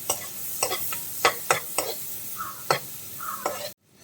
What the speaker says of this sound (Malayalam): അപ്പോൾ ബട്ടർ ഉരുകി കഴിഞ്ഞാൽ ആദ്യം നമ്മൾ സവാള ചേർത്ത് കൊടുക്കാം.